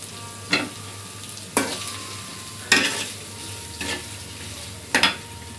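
Raw green banana pieces are stirred in a hot pan of sizzling oil, with five distinct scraping strokes at roughly one-second intervals over a continuous fry.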